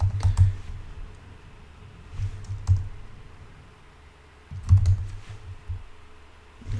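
Fingers tap out short bursts on a computer keyboard, with clusters of close plastic key clicks separated by pauses over a steady low room hum, and no voices.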